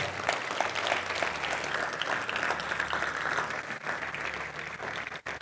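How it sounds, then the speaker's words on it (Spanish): A church congregation claps loudly and steadily for several seconds in a dense, continuous burst of applause, with no speech over it. "Dale un fuerte aplauso."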